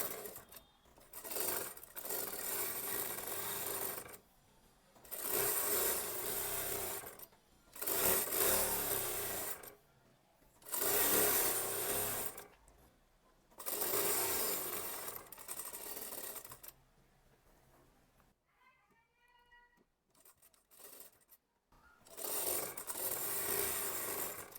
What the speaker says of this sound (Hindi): जितनी भी रेगुलर कली है उसमें आधा इंच मार्जिन पर सिलाई कर देना है